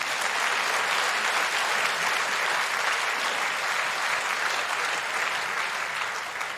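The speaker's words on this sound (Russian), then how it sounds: "Здесь обычно аплодисмент." A theatre audience applauds at Galina Volchek's 2018 anniversary evening, sustained, even clapping from a large crowd that fills the whole stretch and eases slightly at the end.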